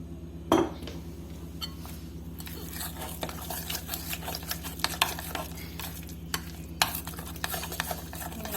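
Thick pakora batter being stirred and mixed in a bowl for Ramzan iftar vegetable pakoras, a steady close scraping and sloshing with occasional clinks of the spoon against the bowl.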